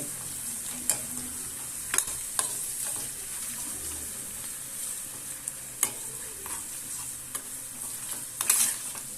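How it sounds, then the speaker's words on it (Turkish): Pepper paste and garlic sizzle steadily in a pan for a noodle and chickpea soup while a spoon stirs, with scattered sharp scraping clicks and taps against the pot over a constant high frying hiss. "iyice bu salçam biraz kavrulsun"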